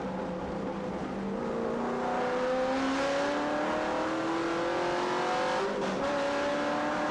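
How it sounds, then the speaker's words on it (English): V8 ute race cars at Timaru Motor Raceway rev hard on the circuit, a steady, loud engine roar with rising pitch sweeps as they wind up through the gears, heard alone without talk. "Lovely sound as they wind it up, don't they? Nothing quite like a V8."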